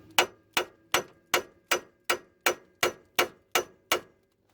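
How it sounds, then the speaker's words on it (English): A small hammer strikes a GMT400 truck front suspension part eleven times in a steady, evenly spaced rhythm, each blow a sharp, close metallic clank that rings briefly before the next. "Get your little hammer."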